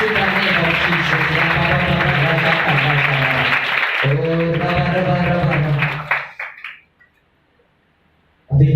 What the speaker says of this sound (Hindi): उस यीशु के लिए जोरदार तालियां बजाएं